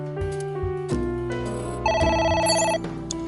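A phone ringing in the video game AI: The Somnium Files, a bright repeating electronic ring that enters over game music and carries on in steady pulses.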